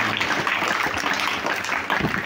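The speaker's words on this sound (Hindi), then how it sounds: "तालियां बजती रहनी चाहिए।" Steady, dense applause from a crowd at a school Independence Day rehearsal, a continuous wash of clapping with no voices standing out.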